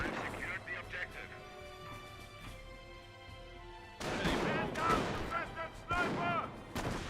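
Artillery guns firing in the game Company of Heroes, a cluster of loud booming shots in the second half following quieter battlefield ambience, with talk over the top.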